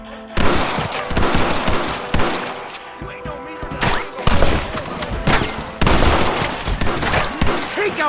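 Heavy gunfire in the western video game Red Dead Redemption, with dense overlapping shots and bursts through the whole stretch, loud and close, and shouting voices mixed in.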